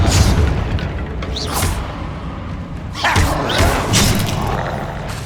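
Bombarda explosion spells going off in the Hogwarts Legacy video game, a loud, dense run of booming thuds and crashes, with a fresh heavy blast near the middle and more impacts after it.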